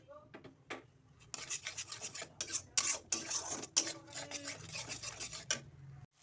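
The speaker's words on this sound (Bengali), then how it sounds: "দিয়ে আমি ভালো করে মশলাটাকে নেড়ে নিচ্ছি" A spoon stirs and scrapes thick masala paste of poppy seed and cashew paste in a pan for a vegetarian jackfruit curry, giving repeated close rasping strokes in an uneven rhythm with no talk.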